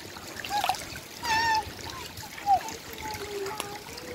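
Water trickles and splashes out in a small outdoor stream while a path is being cleared, with short gurgling bursts and a few thin chirp-like tones.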